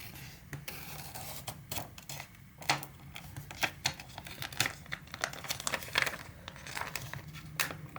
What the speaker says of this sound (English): so let's just peel off the plastic